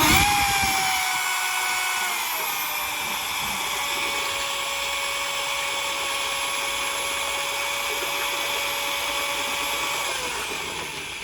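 A power mixer churns ceramic glaze, a loud, steady high-pitched whirring motor that holds constant for several seconds before winding down slightly at the end.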